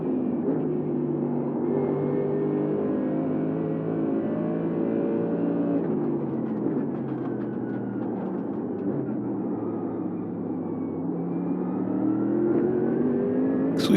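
Race car engines drone and rev steadily at a Virginia circuit, pitch shifting as cars accelerate and pass, a continuous dense engine roar throughout with a brief sharp click at the very end.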